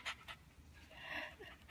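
A small pet dog pants after a walk while held in someone's arms: quick, soft, close breaths in an irregular rhythm, quiet overall.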